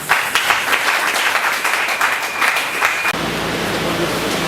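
Audience applause at a school ribbon-cutting ceremony for the launch of church-run schools: dense, steady clapping from a crowd, sustained for about three seconds before cutting abruptly to a quieter hall murmur.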